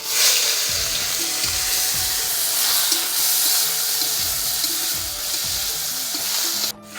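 Chapa fish frying in mustard oil in a pan, a steady loud sizzle with a few soft scrapes of stirring, no talk, cutting off abruptly at the end.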